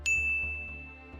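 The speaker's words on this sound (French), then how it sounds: "je vous invite à vous abonner et à activer la cloche pour ne rien manquer" A single bright notification bell ding strikes sharply, then rings out with a clear sustained tone that slowly fades, alone and close.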